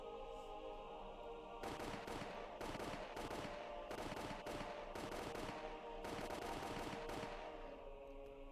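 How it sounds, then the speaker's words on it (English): Soldiers in the game Higurashi When They Cry fire guns in several rapid bursts of automatic gunfire separated by short pauses, faint and slightly echoing against a steady low background. "The sound of the gunshots echoed in the silence."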